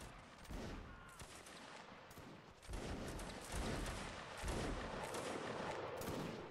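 Musket volleys crackle continuously in a Napoleonic Wars line battle game, a dense, ragged fusillade of many shots layered together at moderate distance with no pauses.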